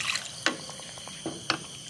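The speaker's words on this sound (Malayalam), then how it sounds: "നമ്മൾ ഈ മിക്സിയുടെ ജാറ് കഴുകിയിട്ട് കുറച്ച് വെള്ളം കൂടി ഒഴിക്കുന്നു കേട്ടോ." Water from a rinsed mixer jar poured into a simmering salna curry, soft close splashes and liquid gurgles with a couple of sharper sloshing bursts.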